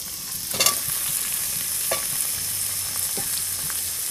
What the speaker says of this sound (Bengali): আলু কষে নেওয়া যায়, আমি মশলার সঙ্গে কষে নেব